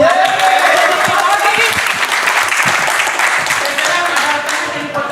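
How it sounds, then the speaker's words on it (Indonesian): A group claps together in a loud, full burst of applause that carries on evenly and tapers a little at the close, with faint voices mixed in. "Tepuk tangan dulu."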